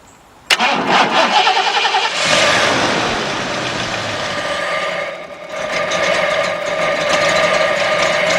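A 5.0-litre V8 car engine with no battery fitted, started from a portable 3000-amp JF EGWO jump starter: a sudden loud crank that catches and settles into a steady, close idle.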